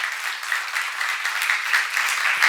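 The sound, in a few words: audience applause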